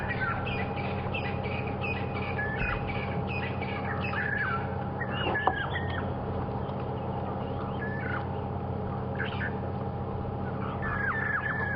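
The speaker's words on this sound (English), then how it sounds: "It's a Levalance" Levaillant's cuckoo calls repeatedly in the African bush on an evening safari drive, a chatter of harsh squawking notes over a steady low vehicle hum, with other birds chirping nearby.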